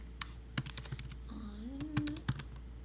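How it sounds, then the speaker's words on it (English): Someone types on a computer keyboard during an online guitar lesson, with scattered sharp key clicks in an uneven rhythm, close and fairly quiet, while a faint sliding tone hums in the background. "You can see me typing."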